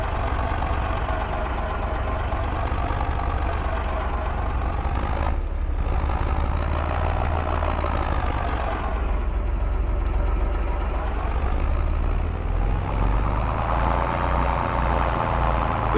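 A tractor engine in the video game Farming Simulator 22 runs steadily for the whole stretch, a loud continuous low rumble with slight shifts in pitch as it idles and pulls, and no talking over it.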